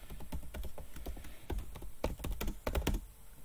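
Fingers tap out a command on a computer keyboard in quick, uneven bursts of close, crisp keystrokes, with brief pauses between the runs of clicks.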